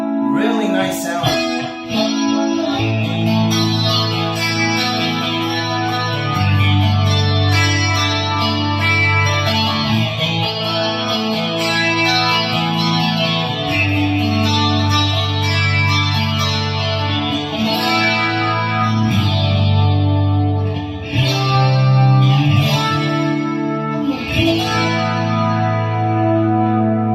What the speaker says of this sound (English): Very nice chorus sound.